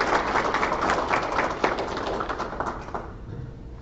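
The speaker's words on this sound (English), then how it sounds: "let's have another round of applause" Audience applause at a Sigma Theta Tau honor society induction ceremony: dense, sustained clapping from a crowd for about three seconds, loud and steady, then tapering off into a few scattered claps.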